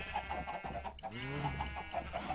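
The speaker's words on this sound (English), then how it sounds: "make me some baby chickens!" Minecraft chickens clucking in the video game, several soft rhythmic clucks repeating close by, with one rising squawk partway through, quiet and without talk.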